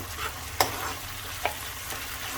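Tomatoes in a pan on a low flame are mashed with a spoon, giving soft scraping stirs and two clear taps of metal on the pan over a gentle background sizzle.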